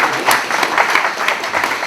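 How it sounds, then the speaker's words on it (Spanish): Audience applause at a housing fair, close, continuous clapping from a group with a steady, moderately loud patter throughout. "Yo creo que nunca se le ha dado un aplauso"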